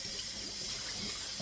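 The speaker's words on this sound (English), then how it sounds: "Okay, let's let that water out." Water drains from a kitchen sink after collard greens are washed, a steady, soft, continuous rush and gurgle with no talking.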